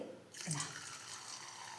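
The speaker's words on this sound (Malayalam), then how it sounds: "കണ്ട നല്ല കാഞ്ഞ വെളിച്ചെണ്ണയിലിടുമ്പോൾ ആ ഒരു ഒച്ച അടിപൊളിയായിട്ട് വരുന്നുണ്ട്" Spicy snacks dropped into hot coconut oil burst into a sudden, steady hiss of frying that keeps sizzling close by with no talking.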